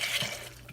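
Pinto beans being rinsed in a bowl of water, a short soft sloshing and swirling of liquid heard up close, with no talking.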